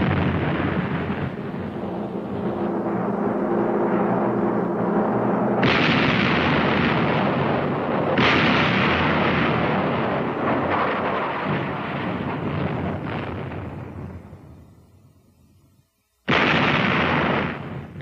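Battleship Wisconsin's big guns firing broadsides in 1952, heavy booming blasts with long rumbling roars, one stopping abruptly before a final loud blast, all very loud and close.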